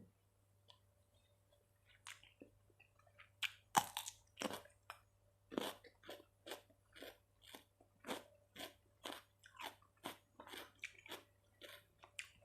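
Crunchy, spicy Thai squid salad is chewed close to the microphone, a steady series of sharp, crisp bites and crunches about every half second, with quiet breathing and a low background hum.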